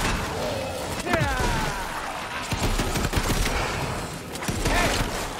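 A coach gun fires repeatedly in Shadow Warrior 3, with loud, sharp blasts and a rapid flurry of shots amid chaotic combat crashes, mixed with a voice talking over the action.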